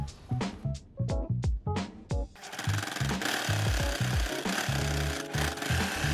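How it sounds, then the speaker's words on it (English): A two-needle lockstitch sewing machine runs in short rhythmic bursts, then settles into a continuous fast mechanical whir with steady stitching clatter, close and loud. "I will sew with the 2-needle lock stitch, so make sewing simple"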